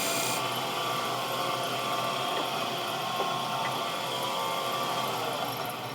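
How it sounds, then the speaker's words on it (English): Steady whirring hum of a wood lathe spinning a wooden wig stand while it is sanded, a continuous rubbing grind held at an even level close by, with no talking. "Then we're going to sand it before we turn it over."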